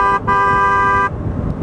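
A FIAMM twin-tone horn on a BMW R1200GSA motorcycle gives two loud, sustained blasts, the first very short and the second held for nearly a second, with riding noise continuing after.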